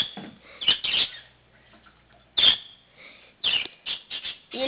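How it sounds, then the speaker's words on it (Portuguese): A small bird gives bright chirps and tweets at its own reflection in a mirror, calling in short bursts with brief quiet gaps, close and fairly clear. "passarinho que se olha no espelho"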